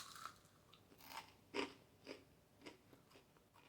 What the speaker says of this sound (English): So I air fried some of our pita chips, and they are crispy.